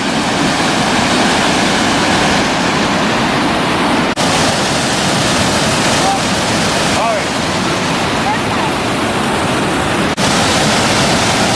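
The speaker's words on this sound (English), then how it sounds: "But there's the waterfall." Continuous roaring rush of a waterfall at Blackwater Falls State Park, broad and steady, with a few faint distant sounds poking through the wash.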